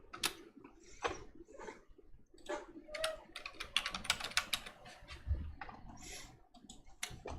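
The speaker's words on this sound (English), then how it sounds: "If I can type in the off-screen window." Computer keyboard typing in quick irregular bursts of clicks, fairly close and moderately loud, with no talking over it.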